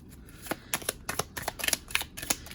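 Playing cards are shuffled and dealt into three piles, producing a quick series of sharp, close riffling snaps and soft slaps in uneven rhythm, with no talking.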